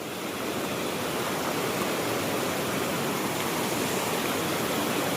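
Mountain stream water rushes steadily and loudly in a high-altitude off-road setting, a continuous broadband roar with no pauses and no voices.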